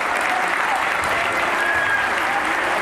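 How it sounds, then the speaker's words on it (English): Steady, dense applause rolls through a gym at a Morris Catholic vs. Saddle River Day girls basketball game, even and sustained without a break. "Applause all around."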